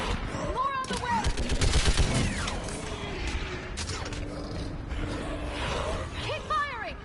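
Battle gunfire, probably from a video game, crackles in bursts and rattles alongside mechanical clanks. Shouted voices cut in over the shooting, which stays loud throughout.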